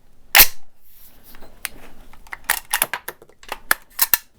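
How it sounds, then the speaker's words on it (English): A 6.5 Grendel rifle bolt drops closed with one sharp metallic clack, followed by several lighter clicks and rattles of the action, close and dry. "drop the bolt."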